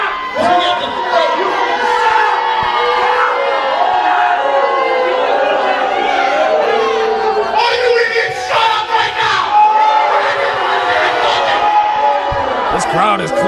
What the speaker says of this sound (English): This crowd has clearly chosen a side.